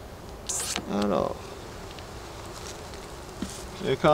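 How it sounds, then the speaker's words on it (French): Honeybees buzzing around a nucleus hive drift past close to the microphone over a low steady hum, with a couple of short voice sounds briefly heard. "j'ai quand même énormément d'abeilles."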